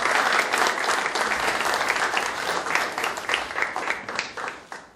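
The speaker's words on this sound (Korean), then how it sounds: "우리 박수로 두 분 환영하고 하겠습니다" Steady group applause fills a Korean political party's leadership meeting, welcoming two new attendees; dense, continuous clapping from many people at close range, fading slightly toward the end with no talk over it.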